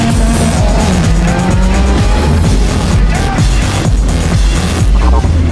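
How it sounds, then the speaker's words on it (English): Subaru Impreza WRX Group A rally car of roughly 300 brake horsepower, its engine loud and close, revs rising and falling through gear changes with continuous road noise. "A Subaru Impreza WRX modified to meet the Group A regulations."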